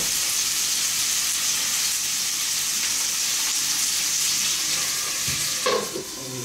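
Chicken wings fry in hot oil with a steady, close sizzle and bubbling hiss that runs throughout, broken near the end by a brief clatter.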